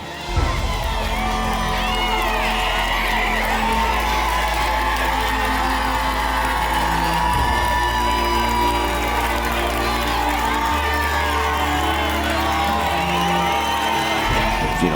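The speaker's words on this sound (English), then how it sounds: "obviously the crowd's going crazy" A large crowd roars and cheers wildly at the finish of a CrossFit Games event, with loud whoops and shouts sustained throughout, dense and close, over steady low rumbling.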